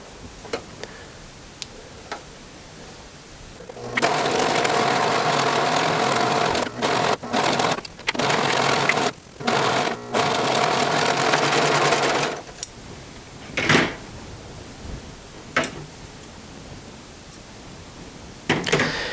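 A sewing machine stitches a T-shirt sleeve and side seam in one pass, with a steady fast whirring run broken by brief pauses and then a few scattered clicks and taps once it stops.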